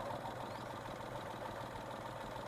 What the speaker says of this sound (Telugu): ఇంజన్ బీడింగ్ చూడండి.